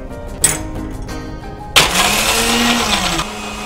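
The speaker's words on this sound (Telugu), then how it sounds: "ఇప్పుడు మిక్సీ ఆడించుకుంటే మనకు అతి తక్కువ టైంలో మంచి టేస్ట్" A kitchen mixer grinder starts up and whirs steadily as it blends mango sharbat with ice cubes, close and fairly loud, after a few softer knocks before the motor kicks in.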